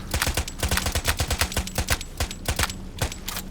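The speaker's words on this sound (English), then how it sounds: "You can run it like a machine gun if you click fast enough." Rapid bursts of gunfire from a fast-clicking weapon in a video game, sharp, loud shots in quick, slightly uneven succession with no pauses and no voices.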